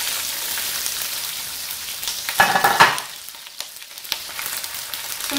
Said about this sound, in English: Some high heat, let it deep fry.